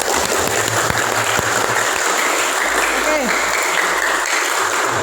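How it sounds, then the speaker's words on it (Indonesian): Classroom applause from a group of students, a steady continuous wash of clapping that fills the whole stretch at even loudness, with faint voices mixed in underneath. "Tepuk tangan lagi yang lebih keras"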